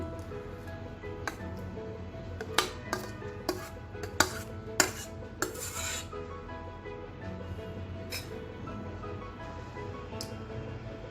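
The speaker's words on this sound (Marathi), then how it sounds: "आपण आता बाऊलमध्ये काढून घेऊ सर्विंग बाउलमध्ये" Cooked mixed vegetable curry being served from the pan into a serving bowl. A spoon scrapes, and a handful of metal clinks and taps ring out at irregular intervals over a quiet kitchen background, with no talking.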